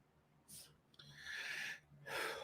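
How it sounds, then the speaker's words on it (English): A person coughs a few times in quick, breathy bursts, close and fairly quiet, with a rough, wheezing quality between them. "Hell of a cough."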